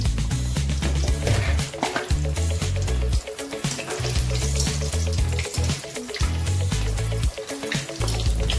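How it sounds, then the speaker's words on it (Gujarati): Samosas deep-frying in hot oil give a loud, steady, dense sizzle with crackling bursts that carries on unbroken and close, with no voices over it. "તો હવે આપણે ગરમ તેલમાં સમોસા નાખીશું અને તેને ગોલ્ડન બ્રાઉન થાય ત્યાં સુધી તળીશું."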